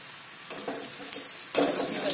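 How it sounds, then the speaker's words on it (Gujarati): Peanut bhujia (coated peanuts) frying in hot oil, a soft bubbling hiss that swells as more pieces drop in, rising to a steady crackling sizzle toward the end. "આપણા દાણા એકદમ ગોલ્ડન બ્રાઉન ના થાય તે રીતે આપણે તળીશું"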